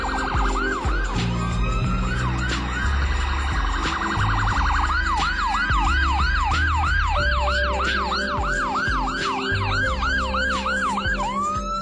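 Ambulance siren wailing steadily in a rapid yelp pattern, loud and close the whole time, as it passes through traffic that has pulled over to the right and stopped, with a low traffic rumble underneath.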